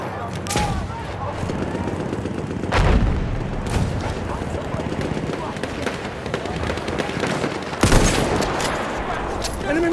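Machine gun fire rattles in the video game Battlefield 1, with bursts and sharp bangs of battle gunfire over a dense, noisy battlefield din, and a voice talks over it.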